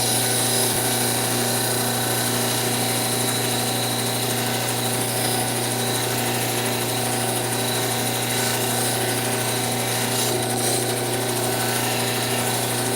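A cabbing machine grinds a turquoise cabochon, giving a continuous, even motor hum with a steady grinding whir throughout and no talk.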